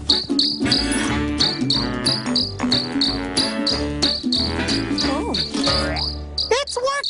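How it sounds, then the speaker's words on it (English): Cricket chirping in a children's sound game, a loud, rapid, regular pulsing trill that repeats steadily over music-like tones for about seven seconds, with no speech. "let's get noisy and make a cricket sound"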